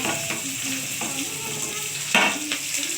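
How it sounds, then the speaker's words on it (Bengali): A paste of ground poppy seed and green chilli fries in a pan with a continuous sizzle, broken by a few scraping stirs and one louder clatter near the end. "দেখুন এটা একসঙ্গে ভেজে নিচ্ছি"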